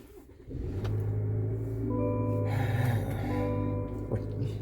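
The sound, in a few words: pickup truck engine starting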